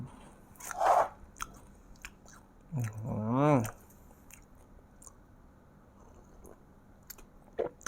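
Bites into an Imperial cookie eaten with milk tea, a couple of crisp crunching bites followed by quieter chewing, close to the microphone, with brief murmurs between them.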